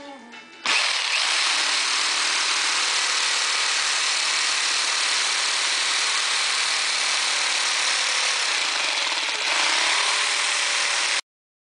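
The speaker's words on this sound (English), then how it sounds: "So here's my jigsaw. All right, here we go." A jigsaw cuts through a stock in a workshop, a loud, steady buzzing drone that starts abruptly and runs continuously for about eleven seconds before stopping.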